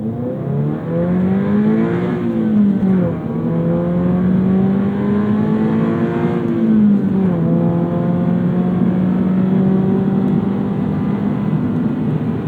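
A 2024 Subaru BRZ Premium with a manual gearbox and STI shift knob pulls hard uphill. The engine drones loudly and steadily and climbs in pitch through the gears, dipping briefly at each shift.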